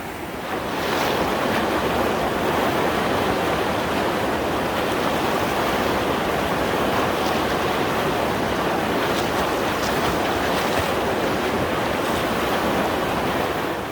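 Constant broadband rush of flowing river water, loud and unbroken for the whole stretch, with no voices.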